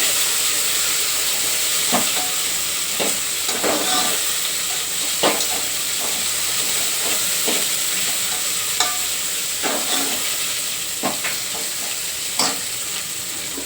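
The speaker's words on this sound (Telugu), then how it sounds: "ఇదిలా బాగానే ఫ్రై చేసేసుకోవాలి" Rice pulao fries with spices in a pan, giving a constant hissing sizzle with intermittent scraping strokes of a stirring spoon, close and steady with no talk.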